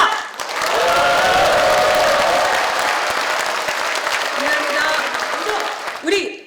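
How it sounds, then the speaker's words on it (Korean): A crowd greets the opening of a Korean political party's thousand-day commemoration event with loud applause and cheering, a dense, sustained roar of clapping and shouts that holds strong before cutting off abruptly near the end. "힘찬 박수와 함성으로 시작하겠습니다"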